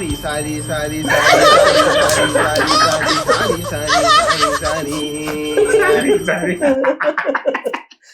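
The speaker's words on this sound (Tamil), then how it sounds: "சாரி, பெல் சவுண்ட் பாரு போன்ல" A phone rings with a repeating bell-like tone through lively chatter and laughter from several people, then cuts off and the voices trail away.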